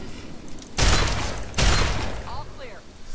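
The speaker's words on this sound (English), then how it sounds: "Let's just shoot it in the face" Two loud, close gunshot bursts in Fallout 3, less than a second apart, each with a short rumbling tail over quiet game ambience.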